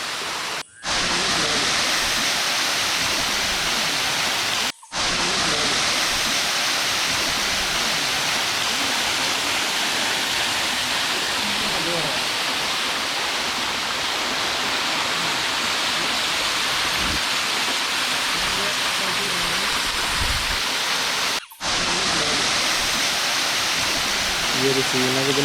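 Paloor Kotta waterfall near Perinthalmanna in Kerala, full with water, roars as a steady, loud, close wash of falling water that runs without a break through the clip, with no talk over it.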